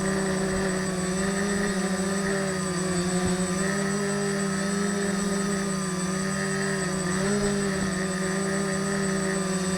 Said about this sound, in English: I really enjoy flying this aircraft.